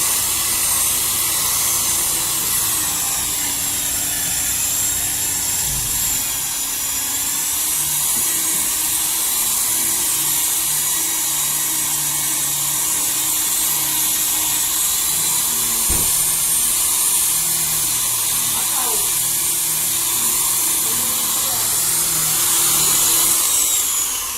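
A car buffing machine polishing the paint of a Ranger, a loud continuous electric whirring drone that holds steady for the whole stretch with slight wavers in pitch and no talking.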